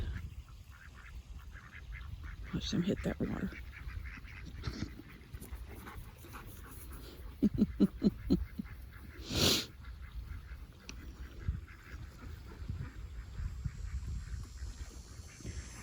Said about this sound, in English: Those other ducks are in there.